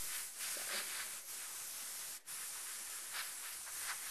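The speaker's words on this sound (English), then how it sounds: "Can't talk and spray at the same time" A steady, soft hiss of an airbrush spraying acrylic paint continues without a break, with a few slight pulses in intensity and no voices.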